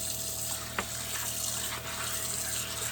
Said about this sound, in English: So I'm just gonna rinse this well 3 or 4 times